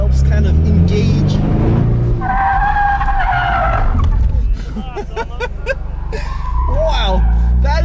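A 2024 Ford Mustang GT drifts with its electromechanical drift brake, the engine revving hard beneath squealing, skidding tires in a close, loud, continuous roar, while people talk over it.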